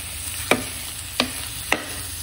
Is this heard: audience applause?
no